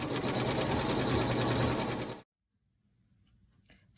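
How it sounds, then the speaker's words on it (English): An embroidery machine stitches out a quilting design, its rapid, steady mechanical hum running loud and close for about two seconds before stopping abruptly, leaving faint handling noise. "And we're going to hit the start button. And then I will go ahead and stitch out the design."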